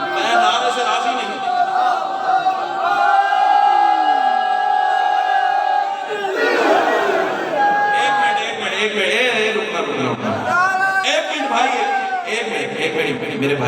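A large crowd at a religious celebration shouts and chants in loud, sustained waves, with overlapping voices and rising surges throughout.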